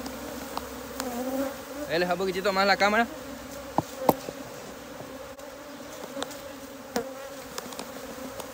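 Honey bees buzz around a hive frame during a natural colony split, a steady close droning hum with occasional louder passes, while someone speaks briefly in Spanish.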